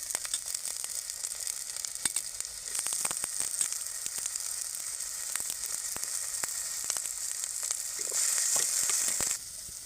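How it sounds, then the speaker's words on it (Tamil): Pirandai (adamant creeper) sautés in oil in a pan, giving a continuous close sizzle with scattered crackles and light scraping clicks of stirring, growing slightly louder near the end. "தேவையான அளவு எண்ணெய் ஆட் பண்ணிக்கலாங்க பரண்டை வந்து நல்லா சுருங்கி நல்லா வதங்கணும்"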